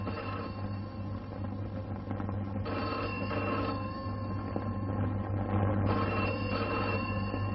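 An old landline telephone rings in a home, a steady continuous electronic ring with faint pulsing, moderately loud and alone with no talk over it.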